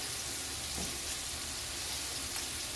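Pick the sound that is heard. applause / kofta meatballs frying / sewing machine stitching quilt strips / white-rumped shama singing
kofta meatballs frying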